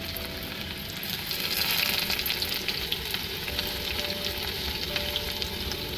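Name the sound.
mustard seeds sizzling in hot oil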